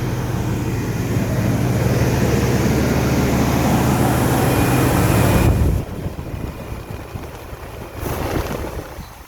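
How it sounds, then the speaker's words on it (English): A 318 engine with a Holley 12-volt electronic choke runs at a steady, loud fast idle drone, then drops abruptly to a quieter, lower idle for the last few seconds. "Now, let's see if the fast idle turns off."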